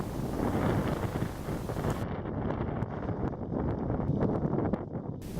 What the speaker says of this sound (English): the wind is still with us